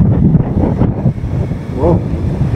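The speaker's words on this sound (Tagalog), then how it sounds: "Lakas ng hangin na rito." Strong wind on a foggy mountain summit at 2,928 meters in the Philippines, gusting and buffeting the microphone in close, rough bursts, with a voice speaking briefly beneath it.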